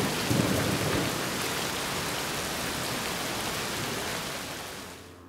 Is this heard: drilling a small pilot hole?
no